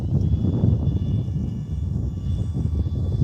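A small airplane's propeller engine drones steadily and loud, throttling up slightly during a landing approach onto a grassy hilltop strip, a continuous close rumble with no talking.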